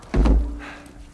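In the Uncharted 4 video game, gear is tossed down onto a floor with a single close, heavy thud and a short dull rumble that fades, with no voices.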